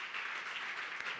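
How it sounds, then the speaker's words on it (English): Conference audience applause at Soccerex Europe 2019: a brief, faint burst of dense, steady clapping heard alone. "Okay, big applause."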